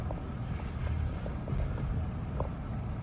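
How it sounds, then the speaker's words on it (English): Strong wind gusts sweep through in the aftermath of Hurricane Laura, a steady, loud, rumbling roar with no voices, filling the whole stretch. "Still very breezy, now blowing pretty hard here."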